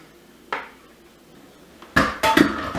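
A fork stirs a yeast, oil, sugar, salt and milk mixture into flour in a bowl for yeast rolls. There is a single soft knock, then a quiet pause, then a cluster of close scraping and clinking strokes against the bowl.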